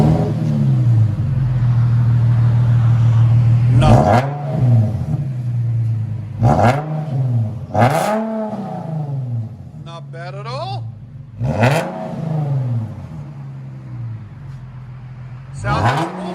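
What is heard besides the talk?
Infiniti G37 3.7L V6 dual exhaust, muffler delete, revving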